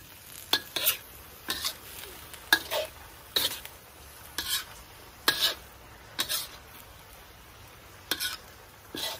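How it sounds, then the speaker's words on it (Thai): Stink beans (sator) stir-fried with plenty of shrimp in a pan: a spatula scrapes rhythmically, about ten strokes, over a soft continuous sizzle, close and clear with no talking. "ใส่สตอลงไปซะผัดสักแป๊บนึงนะคะ"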